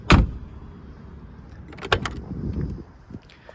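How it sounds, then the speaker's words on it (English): Mercedes-Benz G550 door without soft close slammed shut, a single sharp close thud at the start, followed by softer handling clicks and knocks. "With these, you have to slam it shut."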